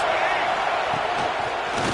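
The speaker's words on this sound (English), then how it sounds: "the crowd gets behind this defense" A football stadium crowd at a Michigan Wolverines game roars in a loud, sustained wash of cheering, with a commentator talking over it.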